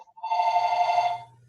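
A telephone rings in a steady electronic bell tone during a group video call, one sustained burst of about a second, loud and clear with no talk over it.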